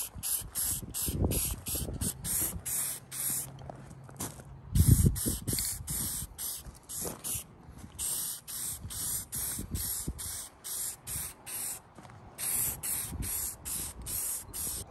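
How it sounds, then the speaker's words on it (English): Black spray paint hissing from an aerosol can in a rapid series of short bursts, close and fairly loud, with a few knocks and handling clatters between sprays. "I'm gonna start at least spraying the white part black."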